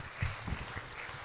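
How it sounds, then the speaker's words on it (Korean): A congregation claps briefly during a Sunday daytime church service, right after parents make their faith pledge before an infant baptism; the applause is soft and fairly distant, lasting only about a second. "우리 박수 한번 쳐주시기 바랍니다"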